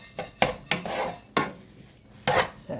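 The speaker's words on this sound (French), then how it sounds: "On fait la vaisselle en même temps" Dishes and cutlery clatter in a home kitchen while washing up during Chinese macaroni cooking with ground beef, with several sharp clinks and knocks of pots and utensils spaced irregularly, close and fairly loud, no talking.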